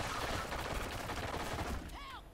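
Gunfire in Call of Duty: Ghosts Onslaught, a dense continuous rattle of rapid shots layered over game effects, loud and sustained throughout.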